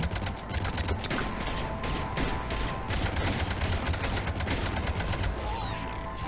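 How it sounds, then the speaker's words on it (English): A rapid-firing slug gun in the video game Mass Effect 3 fires a steady, dense stream of mechanical shots under loud combat sound, with a brief gap partway through. "What is her gun? Because it's firing like slugs and not lasers."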